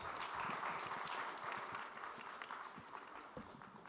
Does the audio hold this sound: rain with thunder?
no